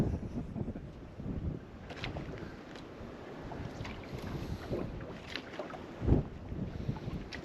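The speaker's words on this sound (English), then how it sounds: "I think the wind's getting worse." Wind blows steadily on a boat during trout fishing, giving a continuous rough rumble and microphone buffeting. A stronger gust swells near the end, with faint water and boat knocks underneath.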